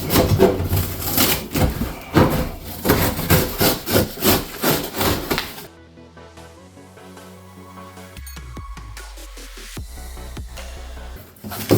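A Hart wheeled tool chest box being pushed across a floor makes a loud, rhythmic wooden scraping and rubbing for about six seconds, followed by quieter scattered knocks and shuffles.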